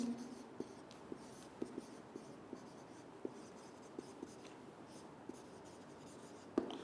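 Chalk or marker tapping and scratching on a board during a chemistry lecture, faint, sparse, irregular strokes against a quiet room, with one louder tap near the end.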